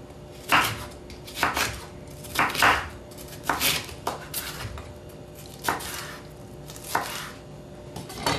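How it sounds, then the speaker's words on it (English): A knife chops through bell peppers on a cutting board, eight crisp thuds at an irregular, unhurried pace, close and clear with no talking. "I like to remove the seeds from the bell peppers as I'm chopping them"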